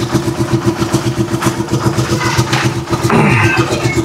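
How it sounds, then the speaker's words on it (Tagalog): Rusi Chariot175 trike engine idling cold after its first start, a steady low rhythmic putter close by with a slight rise in intensity near the end. "ganyan po katining yung makina ng ating trike"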